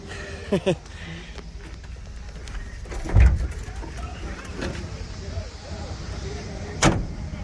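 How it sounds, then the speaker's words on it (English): A truck rolls slowly on a flat tire with a low, uneven rumble and a few heavy thumps spaced seconds apart, while people talk nearby. "A bouncy ride on a flat tire"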